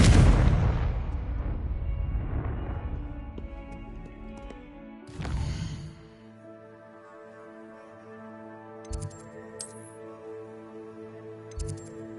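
A Confringo blasting spell bursts in the Hogwarts Legacy video game: a loud booming explosion with a rumbling tail, then a second sharp blast, followed by quieter ringing game sounds and small chimes.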